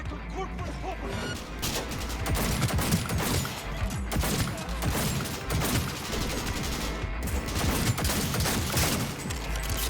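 Dense, continuous gunfire in the video game Cyberpunk 2077, rapid overlapping shots and crashing impacts filling the whole stretch at high loudness, with little room for anything else.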